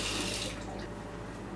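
Cold tap water runs steadily over a gutted bell pepper for a stuffed pepper recipe, a close, full rush that thins to a softer trickle partway through, with no voices.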